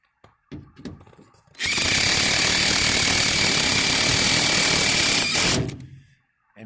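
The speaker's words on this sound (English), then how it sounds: "penetrated that one on the way through, and you got 5 screws holding each one of these in" A power drill drives screws through metal solar panel mounting surfaces, running in one loud, steady whine for about four seconds with a rough mechanical buzz before winding down.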